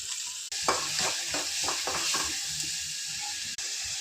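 Onion sautéing in a pan for a soybean curry, a steady sizzle with a run of rhythmic stirring scrapes, close and moderately loud, without talk.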